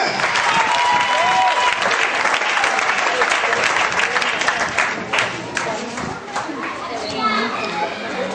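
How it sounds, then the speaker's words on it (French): A church congregation at an offering service claps and cheers loudly and continuously, with voices shouting and calling out over the sustained applause. "à la personne de notre sœur, Yédine Lydie, on va acclamer très fort le Seigneur"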